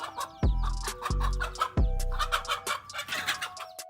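A hen clucks and squawks in loud, repeated bursts while defending her chicks from a snake, with sharp agitated calls close by and no talk.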